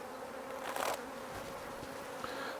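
A steady honeybee buzz hums throughout at a nuc hive, swelling briefly louder near the start as the bees move close by, with soft outdoor background noise.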